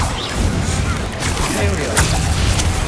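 The Bombarda explosion spell goes off in Hogwarts Legacy gameplay, a loud rumbling blast with crashing impacts over a continuous heavy low roar, while a voice is heard speaking through it.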